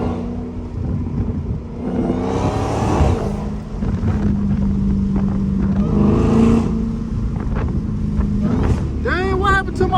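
A Dodge Hellcat rumbles loudly while driving through city streets, a deep steady engine roar with surges of revving and wind buffeting, heard from inside the car with someone talking over it.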